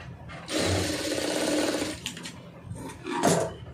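Sewing machine stitching piping onto a plain blouse, running in a steady whirring burst of about a second and a half, pausing, then a shorter second run, close and clear with no talking.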